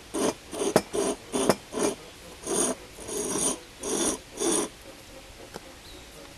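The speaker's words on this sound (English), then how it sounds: "I'll just grind away a little bit." Metal ground away by hand on a rusty part to make a contact point for electrolysis rust removal, heard as about nine rhythmic, rasping strokes, close and fairly loud, then a pause.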